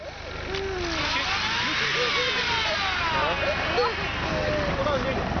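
A vehicle's petrol engine runs steadily throughout, its pitch rising and falling as it revs, with people talking over it.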